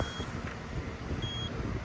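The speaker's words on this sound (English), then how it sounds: "All right, so if the beep stops, we know it tripped." Electrical tester beeping on a live circuit during HVAC troubleshooting of a Trane Varitrac system, a faint high steady tone sounding in two short separate bursts over low background hum, with no talking.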